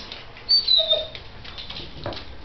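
A five-week-old puppy lets out a few thin, high whimpers and whines, brief and close, over a quiet room background.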